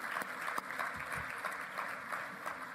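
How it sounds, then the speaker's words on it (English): A crowd applauds the foreign horse owners at the Breeders' Cup, steady scattered clapping heard from some distance across a large venue, with no talk over it. "a round of applause for those people that have entered horses from around the world and brought them here"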